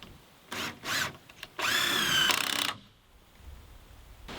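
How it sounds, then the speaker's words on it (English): A power drill drives 3-inch screws sideways into a wooden wall header, with a few short whirring bursts followed by one longer, louder run that winds down, heard close and without speech. "I'm going to use more 3-inch screws to come in from the side here and get this attached"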